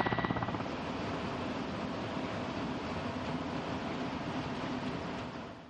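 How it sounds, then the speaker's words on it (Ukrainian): A transport-attack military helicopter flies over the Donbas combat zone, its steady rotor and engine roar loud and continuous throughout, with no speech. "Це один з транспортно-ударних вертольотів операції об'єднаних сил."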